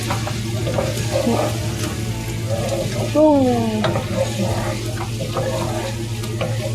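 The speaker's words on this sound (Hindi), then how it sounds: "अब इसको हम करेंगे मिक्सी" Chicken karahi sizzles and fries in a pan while being stirred, a continuous crackling hiss with scraping stir strokes, close and fairly loud, with no talking over it.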